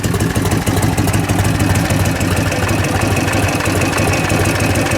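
A 1978 Harley-Davidson FLH 75th anniversary edition motorcycle engine idles steadily and loudly up close, a continuous low rumble with an even, rapid pulse.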